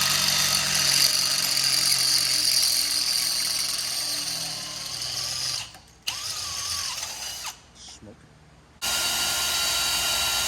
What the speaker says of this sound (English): I'm gonna get 2 holes drilled